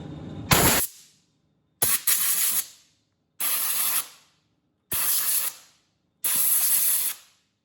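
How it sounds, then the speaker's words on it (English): Five bursts of compressed air from an air compressor nozzle blow out a fuse socket and wiring on a race mower build, each loud broadband hiss lasting about a second with short silent gaps between. "got the air compressor hooked up, blowing out this fuse socket and a bunch of other wires."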